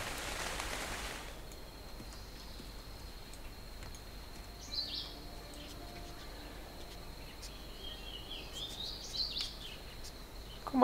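Steady, soft hiss of rain falls throughout in the video game Dark and Light, with a few faint chirps and clicks scattered over the even wash.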